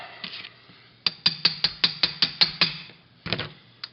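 A bolt is tapped out with a small assembly aid: about ten sharp metallic taps in a quick, even rhythm, then a short cluster of further taps, close and loud.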